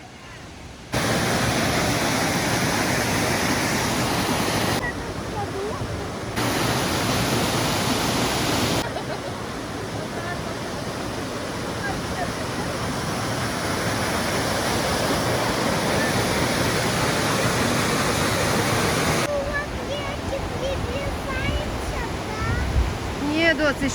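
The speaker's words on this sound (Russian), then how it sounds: "Здесь все остановились, чтобы посмотреть на водопад." Steady roar of a waterfall heard from a large bridge on the mountain trail to Morskie Oko in Poland, a loud continuous rushing wash that fills the whole stretch with brief edits and faint voices near the end.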